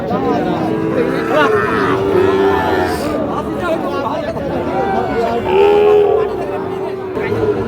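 Cattle low at the Ambari livestock market, where Sahiwal bulls and calves are traded. The calls are steady and fairly close, mixed into constant crowd chatter with people talking nearby.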